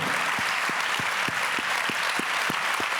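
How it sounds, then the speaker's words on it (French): A crowd at a community Olympic new-year gathering applauds athletes with dense, continuous clapping and a steady rhythmic beat of heavier claps running through it. "On peut les applaudir bien fort."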